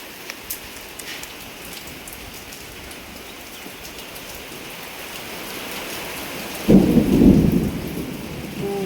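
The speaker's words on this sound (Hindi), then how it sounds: "जोरों की बारिश होने स्टार्ट हो गई अचानक से।" Heavy rain pours steadily outdoors, and a deep rumble of thunder rolls in loudly near the end, with no one speaking.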